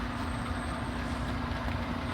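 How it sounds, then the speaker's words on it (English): An HO scale model stack train runs along the upper level of a model railroad layout, giving a steady, close rumble of wheels on track with no talk. "Here's the stack train"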